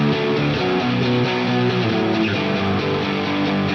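Thick, layered shoegaze-style electric guitars, double-tracked through an amp simulator and panned far left and right, play a chord progression, dense and continuous with a bright, processed tone.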